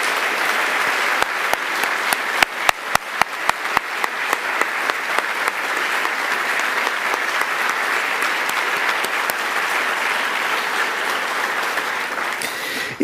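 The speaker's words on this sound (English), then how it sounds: "give you a huge round of applause?" A large audience applauds at the Northern Territory 2021 Australian of the Year Awards ceremony for four nominees standing, starting with sharp scattered claps that swell into dense, sustained applause filling the hall without speech.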